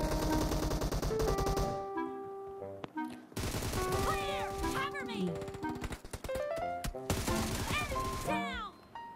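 Rapid S12K shotgun blasts and other gunfire in PUBG Mobile team deathmatch crack in dense, loud bursts alongside game effects and musical tones, with a person talking over the shooting.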